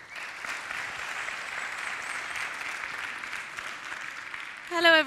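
Steady audience applause welcoming a speaker to the stage at a CSS tech talk, dense and even throughout, with a brief louder burst of voices and tonal sound near the end.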